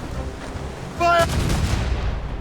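Ship cannons fire in the video game Assassin's Creed Rogue, a sudden loud burst about a second in that keeps booming and rumbling, with shouting voices and the clamor of naval battle.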